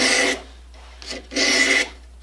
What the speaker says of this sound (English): as I pull the sandpaper through, my finger is pushing it down